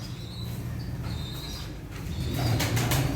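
Pigeons at their drinking water flutter and rustle their wings with soft low coos in a loft, close by and fairly quiet, the flapping growing busier near the end.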